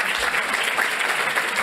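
Dense, loud applause from an audience at an insurance industry awards event, a continuous roar of many hands clapping with no pauses or voices.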